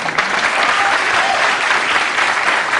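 Studio audience applause on a 1980s Letterman late-night show, loud, dense clapping that stays steady and continuous throughout.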